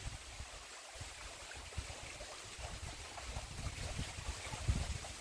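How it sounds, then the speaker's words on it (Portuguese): Clear stream water flowing in a steady, soft rush with small splashing bursts, heard faint and close with no talking. "Água limpa da correnteza."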